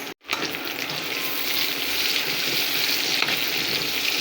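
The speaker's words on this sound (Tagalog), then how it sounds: "Sangkotsa muna ang pork. Bawang. Sibuyas." Pork sautéing with garlic and onion in a hot pan gives a loud, steady sizzle that runs close and continuous after a brief break at the start, with no talk.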